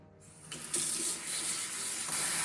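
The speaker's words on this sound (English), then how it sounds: "And I'm going to rinse it." Tap water runs steadily over fresh Dungeness crab in a strainer as it is rinsed, a continuous broad hiss of flowing water that swells slightly as the stream hits the shell, with no talking.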